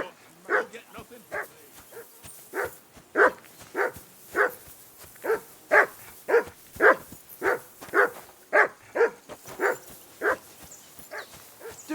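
A dog in the video game Kingdom Come: Deliverance II barks in a steady, evenly spaced series of sharp yaps with occasional whimpering, sounding close and continuing for about twelve seconds without pause.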